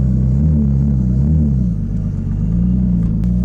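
A JDM Nissan car, back running after sitting neglected for over a year, drives with a loud, close, continuous low engine rumble that dips slightly and returns.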